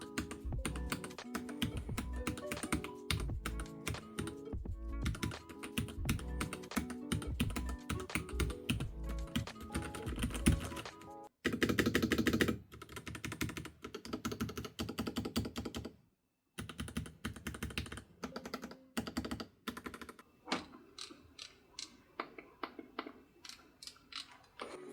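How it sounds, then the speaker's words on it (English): Keys clack on a FiiO KB3 mechanical keyboard as someone types at random, a quick irregular patter of crisp close keystrokes in bursts with brief pauses between them. "now I'm going to show you how the keys works. I will just type random."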